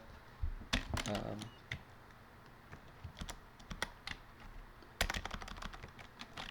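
Keys clatter on a computer keyboard in quick bursts, with some soft speech audible between the clusters of clicks.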